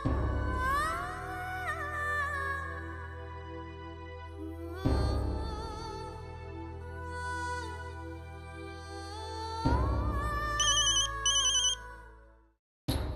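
A phone ringtone plays a repeating musical melody in three long phrases, loud and close, with no talking, ending abruptly.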